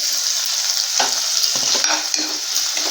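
Onion and tomato cook in a pan for a shark fish curry, a loud continuous sizzle with bursts of bubbling and spattering, and no talk.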